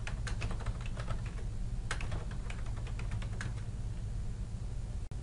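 Typing on a computer keyboard, a quick run of close, crisp key taps in bursts over steady background hiss, with no talking.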